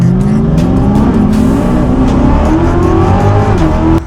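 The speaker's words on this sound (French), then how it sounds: "Nous avons pour la première course la Camaro ZL1 à gauche et la Corvette Z06 à droite" A Chevrolet Camaro ZL1 and a Corvette Z06 race a half mile, engines roaring loud and close as they rev up through the gears, with a slight drop at the very end.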